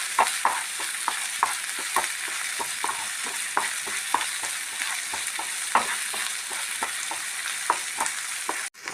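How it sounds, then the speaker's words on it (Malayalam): Thinly sliced onions fry in a pan with a steady, bright sizzle, while a spoon scrapes and stirs through them in regular clicking strokes. The sound is close and continuous, with no voices. "അപ്പോൾ നമ്മൾ വെച്ച സവോള നേരിയതായിട്ട് ഫ്രൈ ആയി തുടങ്ങി"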